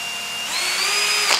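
A Tekiro DC-HD2047 12-volt cordless drill runs with a steady high motor whine that rises slightly in pitch partway through, close and loud, with no speech.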